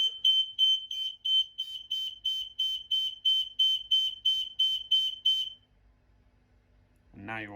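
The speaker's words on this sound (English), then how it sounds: "The EI3016 optical smoke alarm." A loud, shrill EI3016 optical smoke alarm beeps in a rapid repeating pattern for several seconds during a test, then stops; a brief voice follows at the very end.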